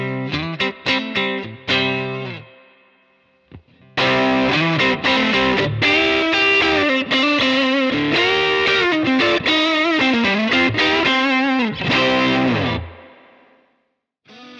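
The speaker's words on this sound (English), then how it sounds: "Green Overdrive can sound more natural than the average overdrive pedal when used as a standalone drive pedal with a completely clean amp" Electric guitar run through a Halcyon Green Overdrive pedal into a completely clean amp, giving a natural, warm drive: a few short picked notes, a pause, then a loud sustained stretch of overdriven chords and lead lines that rings out near the end.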